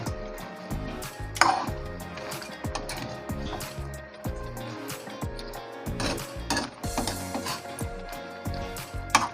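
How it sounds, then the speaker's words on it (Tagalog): A spoon stirs ginataang langka with crab in a cooking pot, giving irregular clinks and scrapes against the metal with soft wet shuffling, steady and close throughout. "Hahaluin ko lang."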